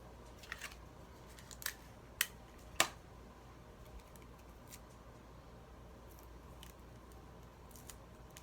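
Scissors snip off excess material on a fall pumpkin wall hanger craft, giving a few sharp, quiet clicks spaced under a second apart against a faint background hiss.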